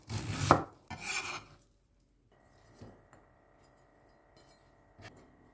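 A knife slices a chili on a cutting board, a couple of brisk chopping strokes up front followed by quiet with faint light taps and clinks.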